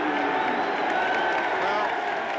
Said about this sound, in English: they're booing him for what he did